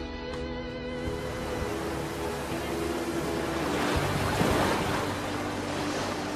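North Sea surf and wind in the Heligoland Bight, a dense, steady roar of breaking waves with gusting wind that swells slightly midway.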